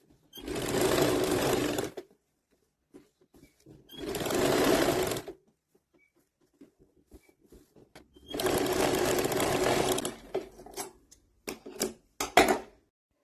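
Simple domestic sewing machine stitching embroidery work with anchor thread onto a suit bottom, running in three loud sustained bursts with quiet pauses between, then a few short stops and starts near the end.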